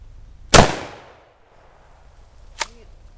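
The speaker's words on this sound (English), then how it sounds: "Oh yeah, real big bang. Double-aught buck, 3 inch." A Tactical Steven shotgun fires a 3-inch double-aught buckshot load outdoors: one loud, sharp blast with a ringing decay, followed by a smaller, sharp crack about two seconds later.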